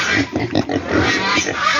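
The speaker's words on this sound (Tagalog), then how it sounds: "ito yung mga baboy ko na ano na to mga dalawang buwan lang mga to" Young pigs about two months old grunt and oink loudly at close range in a pen on a farm in Cagayan during the rainy season, a rapid burst of overlapping snorts and squeals.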